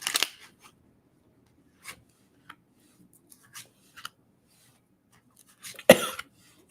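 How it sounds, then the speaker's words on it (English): One loud, harsh cough bursts out close to the mic near the end, after a quiet stretch broken only by small scattered taps and rustles. "My cough is bad today."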